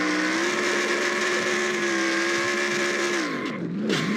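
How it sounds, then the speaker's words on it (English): A race car in the NASCAR Racing 2003 video game at Coca-Cola Superspeedway does a burnout, a loud steady engine drone with a sustained tire squeal that holds, then wavers and drops near the end. "let's watch Will Bell's first career burnout here today at Coca-Cola"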